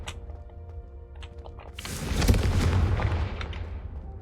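A Confringo fire spell detonates in Hogwarts Legacy, a quiet lead-in giving way to a loud, rumbling burst that swells and slowly fades over a couple of seconds.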